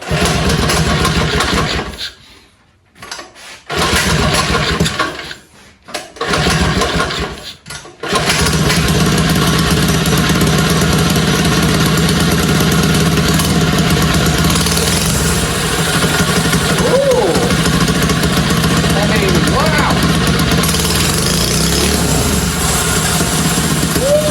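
Massimo MB100 79cc mini bike with a dyno-tuned prototype performance exhaust, starting with a few sputtering cuts and then running continuously with a loud, buzzy small-engine drone, slight rises in revs, up close.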